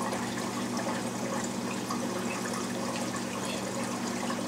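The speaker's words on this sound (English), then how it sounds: "They're freaking loving this flow of water coming through here." Water flows steadily through a backyard pond setup driven by a WP40 pump, a continuous close rushing, trickling wash with no break and no voices.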